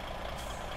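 Air hiss from the parking brake of a DAF 105 truck in Euro Truck Simulator 2, a short steady rush of air under a low engine idle.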